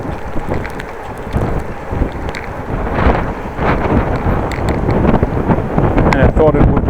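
Wind roars steadily across the microphone of a rider on a Dutch bike on a windy evening, with light drizzle falling. The rushing noise is loud and continuous, with gusty surges throughout.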